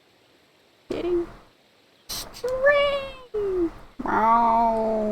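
A cat in Reel Fishing: Road Trip Adventure gives several loud, close meows of rising and falling pitch, separated by short pauses, with a spoken word breaking in among them.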